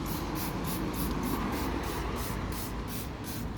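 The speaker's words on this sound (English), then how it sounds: "You spray it off and clean it like this." A spray bottle mists water onto a car headlight being restored with toothpaste, a steady close hiss of spraying that runs continuously with faint rhythmic pulses.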